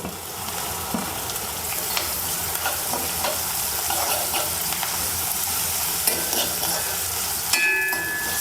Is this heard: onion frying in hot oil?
yes